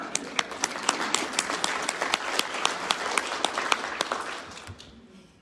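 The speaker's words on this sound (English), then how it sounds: "Clap for that." An audience at an international meeting on Indigenous women's health bursts into steady applause, dense clapping with a few sharper near claps standing out, holding for several seconds before fading away.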